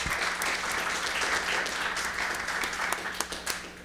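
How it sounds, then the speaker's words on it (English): An audience at a live-streamed school recognition event applauds for top-ten placers, a dense, sustained round of clapping that stays loud throughout and thins slightly toward the end. "a nice round of applause for all of them"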